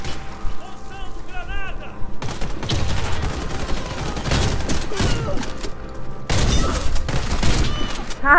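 Saiga bullpup gunfire in a shooting video game: loud bursts of rapid shots in two clusters, separated by a brief lull, with a voice talking over part of it.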